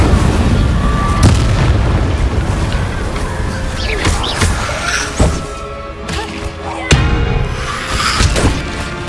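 Fire spell cast in Hogwarts Legacy, heard as loud, booming bursts and thuds that recur over a dense, continuous game soundscape, with several sharp hits standing out.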